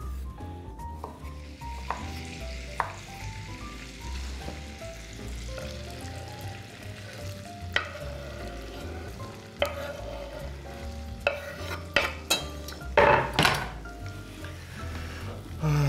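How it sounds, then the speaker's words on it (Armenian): Small pieces frying in a pan toward a golden crust for a lemon roulette, a low steady sizzle under faint kitchen clatter, with occasional sharper clinks and scrapes of stirring growing busier near the end. "Տապակում ենք, մինչև ստանանք ոսկեզոծ կեղև"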